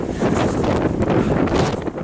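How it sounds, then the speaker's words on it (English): Steady, gusty wind on a snowy walk buffeting the microphone, a dense low rumble that roars continuously with no voices. "It's a bit less windy up here"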